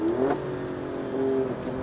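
Alfa Romeo Stelvio QV SUV engine heard from inside on a hairpin turn, a short rising rev blip as it downshifts, moderately loud over road noise.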